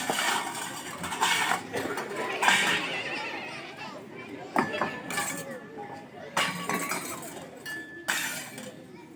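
Metal and glass utensils clink and clatter repeatedly while dishes are washed, with sharp rings among them, while people talk nearby, during a primary school play.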